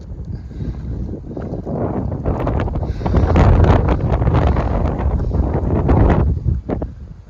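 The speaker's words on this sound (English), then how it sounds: "Can hear the wind blowing." Steady wind buffets the microphone on a mountain trail between West Yellowstone and Lima, Montana, a loud, continuous rushing roar that swells in gusts with no talk.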